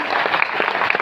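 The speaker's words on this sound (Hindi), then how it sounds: "जोरदार ताली होनी चाहिए।" Audience applause at a seminar in a Mumbai hall, a brief dense burst of clapping from many hands close by, with no speech over it.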